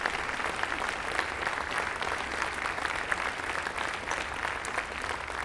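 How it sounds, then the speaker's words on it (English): Concert audience applauding a young performer at a fall concert, a continuous even wash of many clapping hands sustained throughout at moderate level, no voices over it. "How about another round of applause for this very talented young man?"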